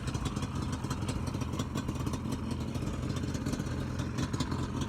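An 85cc dirt bike engine running with a steady, buzzy, rattling drone and small rev fluctuations, loud and close, with no talk over it.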